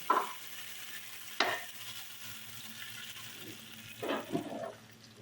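Haleem cooking in a pot is stirred and scraped, giving a few soft, wet swishes and knocks over a low, steady background bubble. The sounds are fairly quiet, with no talk.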